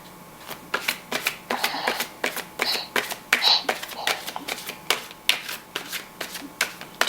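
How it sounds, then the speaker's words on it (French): Tarot cards are shuffled and drawn for a reading, a run of crisp riffling and sharp card snaps in a loose rhythm, close and clear, with a voice speaking softly underneath at times. "Et là, maintenant, je vais tirer 3 cartes."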